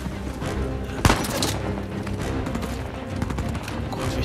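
Gunfire in Uncharted 4 on PS4 Pro: a dense, close exchange of shots with one sharp loud crack near the start, and a voice talking faintly underneath.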